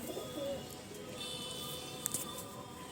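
Pigeons in a loft give soft, low cooing through a steady murmur of background noise, with a few faint chirps and a brief sharp knock near the end.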